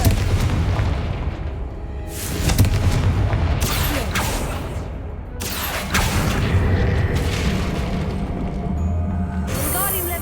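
Booming spell blasts in the Hogwarts Legacy video game, with dense low rumbles and crackling bursts layered over continuous game music and effects, swelling sharply around several moments.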